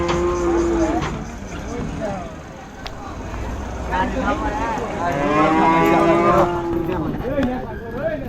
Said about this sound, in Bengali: আরশাদ ভাইয়ের গরুগুলো আইনা উঠায় ফেলবো